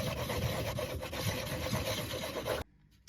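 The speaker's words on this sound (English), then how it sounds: "I'm just moving it around really fast and then kind of rolling it into my hand. Trying to polish those edges." An aluminum foil ball rolled and rubbed fast between the hands to polish its edges, giving a steady close rasping scrape for about two and a half seconds before stopping abruptly.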